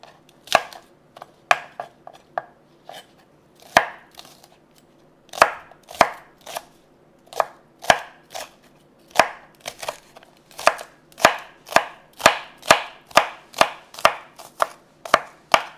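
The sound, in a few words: knife chopping spring onions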